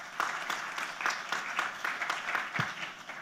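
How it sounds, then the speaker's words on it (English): Scattered, fairly quiet clapping from a small group at a conference, with irregular claps spread across the whole stretch. "Let's give a round of applause to the presenter today."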